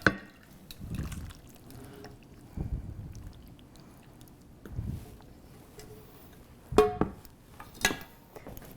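Saucy orecchiette pasta with mushrooms, arugula and tomatoes slides and plops into a bowl in soft, wet splats and drips, a few quiet spaced bursts with a louder pair near the end.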